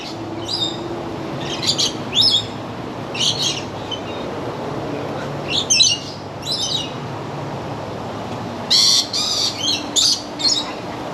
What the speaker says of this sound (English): Dito kami sa bird aviary.